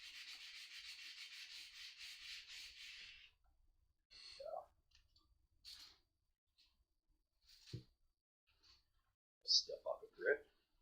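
Hand-sanding the blade of a mushroom hunting knife with abrasive paper, a steady rasping rub for about three seconds, then scattered short scrapes, taps and faint handling noises in a quiet room.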